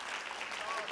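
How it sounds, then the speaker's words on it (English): A seated church congregation claps along during a Sunday morning worship service, a dense steady wash of hand claps throughout with a faint voice underneath. "you can clap your hands as you're seated this morning"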